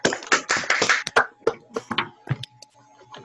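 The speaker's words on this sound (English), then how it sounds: "Round of applause." A small audience at a geological society meeting gives brief, scattered hand clapping after a talk on trilobites and isotopes. Close, uneven claps thin out into a few isolated taps over about three seconds, with no talking.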